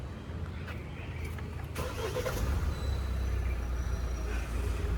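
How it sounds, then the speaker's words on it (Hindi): A car engine starting and idling as it warms up, a steady low rumble that firms up partway through, heard close and alone without talk. "वार्म अप करते हैं गाड़ी का"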